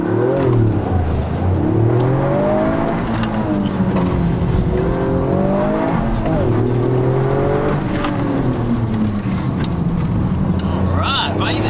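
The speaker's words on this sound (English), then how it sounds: "we're going to take Phil's Yaris" A Toyota GR Yaris driving on a small track at night, its engine heard from inside revving up and down through gears with rising and falling drone, loud and continuous, while people talk over it.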